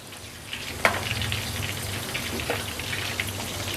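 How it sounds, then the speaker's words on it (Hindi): Mutton koftas fry in hot oil, making a constant crackling sizzle close by, with a couple of brief clinks or pops standing out. "कोफ्ते बड़े अच्छे से फ्राई हो गए हैं"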